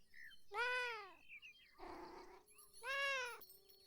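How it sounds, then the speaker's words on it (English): A cat in the video game Beyond Eyes meows twice, clear and close, with a short softer sound between the two calls and no talking over them. "cute cat"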